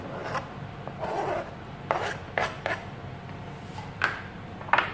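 A knife slices taco ingredients in half on a cutting board, giving several soft, separate chopping taps at an uneven pace, close but quiet, with no talking.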